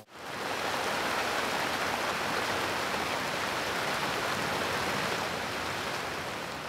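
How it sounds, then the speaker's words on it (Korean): Steady rain shower pouring down on dry ground, a dense, even hiss that stays loud and unbroken throughout with no voices. "경쾌한 빗소리 들으며 여행을 마무리합니다."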